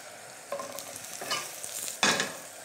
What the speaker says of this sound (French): je vais faire sauter mes cèpes, un petit peu de beurre